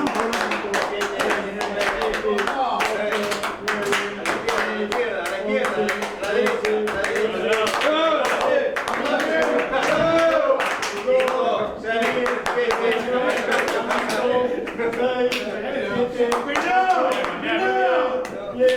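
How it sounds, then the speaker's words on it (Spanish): A rugby team captain claps his hands to signal a change of direction during a training drill, sharp individual claps repeating in an irregular rhythm while people talk over them. "Él va a ser el que va a aplaudir para cambiar de dirección"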